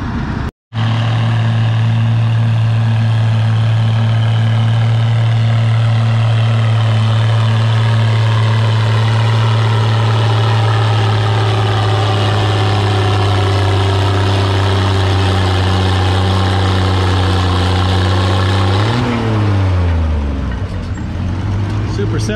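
Vintage tractor engine straining under load as it pulls a heavy sled at a vintage farming days tractor pull, a loud, steady, droning roar held for many seconds before the pitch drops and winds down near the end.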